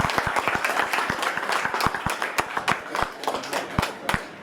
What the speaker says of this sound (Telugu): చప్పట్లు పెట్టవలసిందిగా కోరుతున్నాము